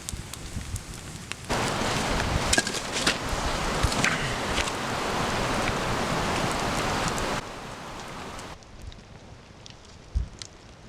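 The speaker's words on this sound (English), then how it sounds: "And it just keeps on raining." Steady rain hisses down at a campsite with an ocean view by the Nehalem River, loud and even for several seconds before dropping off to a softer patter with scattered drops.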